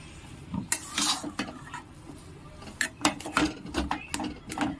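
Spoon scraping and clinking through potatoes and spices in a pan for homemade aloo chop, with irregular close stirring knocks and scrapes, some quick bursts, no talking.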